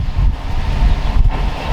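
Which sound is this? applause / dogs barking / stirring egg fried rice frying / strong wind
strong wind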